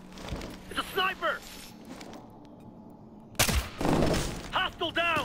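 Gunfire in the video game Ghost Recon Future Soldier, sharp shots and a loud burst partway through, mixed with soldiers shouting over the firefight.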